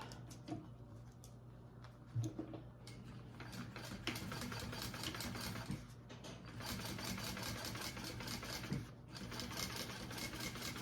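A sewing machine stitches a bag with a zipper foot fitted, running in a steady close whirring hum with rapid needle ticking and a few brief pauses.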